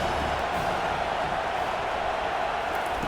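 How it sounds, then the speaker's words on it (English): A stadium crowd in the College Football 25 video game makes a steady, distant roar of cheering, a constant wash of noise. "This crowd bringing the energy and noise early."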